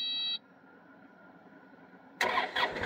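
Excavator started with a key: a short high electronic beep, then a quiet pause, then the engine cranking and catching with a loud rough burst.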